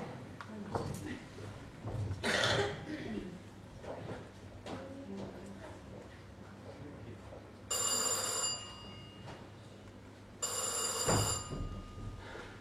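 A telephone rings indoors in two loud bursts with a long gap between them, over faint room sounds and some quiet background voices.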